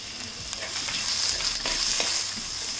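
Green chillies, split lengthwise, sizzle steadily in hot oil in a pan, with occasional sharp scrapes and knocks as they are stirred, close and fairly loud, no voices.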